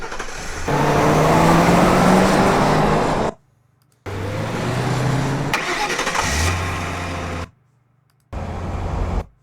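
A Ford Model A engine from a sound effects library plays in several short separate takes, cranking and starting, then running and revving loud and close, with silent gaps between the takes.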